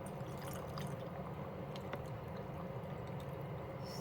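Brine for pickled green tomatoes pouring into jars, a faint steady trickle and splash that runs evenly without a break, heard close and alone.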